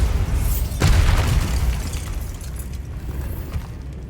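Bombarda spell in Hogwarts Legacy, a loud deep boom that swells near the start and rolls into a sustained rumbling blast with debris crackle fading over several seconds.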